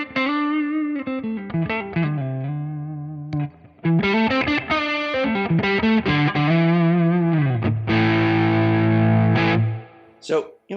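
An electric guitar runs through the rhythm channel of a Tone King preamp. It plays a driven, slightly distorted riff with quick chords and single notes, then rings out into a sustained chord before it cuts off.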